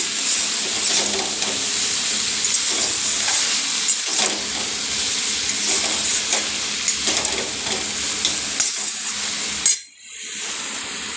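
Potato, eggplant and bothar greens stir-frying in a pan give a steady loud sizzle with scraping stirs throughout, then the sizzle drops away sharply near the end.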